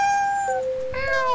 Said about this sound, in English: Meow. Aw, I can meow.